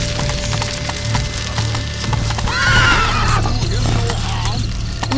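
Horse in The Witcher 3 gives a loud whinny midway, over a steady run of hoof clip-clops and a constant low hum.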